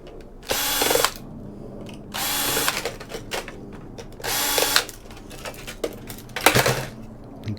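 Power drill unscrewing battery screws from a server board, three or four short whirring bursts with pauses and small clicks of parts being handled between them, close and loud.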